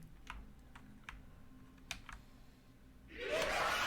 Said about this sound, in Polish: Może przesunę klawiaturę, może to coś zmieni.